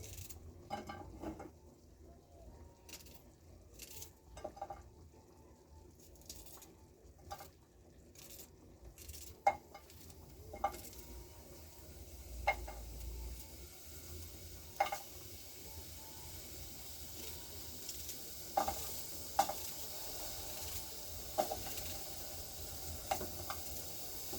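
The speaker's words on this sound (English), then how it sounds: "we go ahead and chop the onions in it" Onions cooking in a pot on a gas stove give a low, steady sizzle beneath scattered clinks and scrapes of a utensil against the pot, fairly faint and distant, with no talking.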